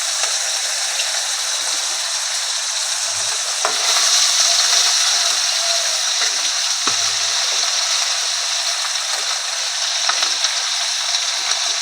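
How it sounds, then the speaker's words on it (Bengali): Close, continuous sizzling and crackling of fish frying in hot oil, a bright hiss with occasional pops and a faint low hum beneath. "দেখো মাছ ভাজাটা হয়ে যাচ্ছে"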